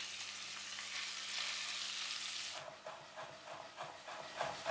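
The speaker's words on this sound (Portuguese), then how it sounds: "Começar por refogar o alho." Garlic and julienned peppers sauté in a pan, starting with a loud bright sizzle that drops to a softer crackle broken by stirring scrapes.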